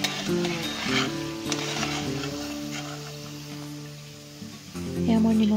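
Salted rice-flour oil pitha fries in hot oil with a soft, continuous sizzle beneath a voice speaking nearby.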